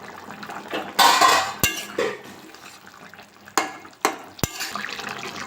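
A metal lid is set over a cooking pot of potato, kohlrabi and prawn curry, giving a scraping rattle then several sharp clinks and clatters of metal against metal, close by.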